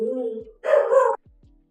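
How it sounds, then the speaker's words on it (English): Dogs barking in the distance behind someone talking on a live stream: a short burst of a few muffled barks breaks in after his voice, then fades to faint yips. "I'm going to turn these dogs down there if they keep barking"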